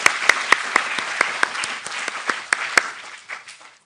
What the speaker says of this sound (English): let's give all your loved ones a great round of applause